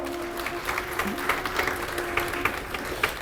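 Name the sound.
applause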